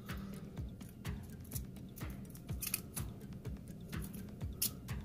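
Scissors trim a sheet of sandpaper at close range, a steady run of repeated crisp snips and rasping cuts with no talking.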